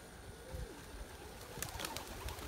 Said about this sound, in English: we've got a little bit over 500 birds in the loft